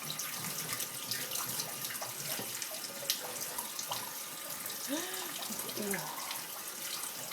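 A tap runs steadily and strongly into a sink while a child plays at washing dishes, with a constant rushing splash throughout and soft voices murmuring underneath.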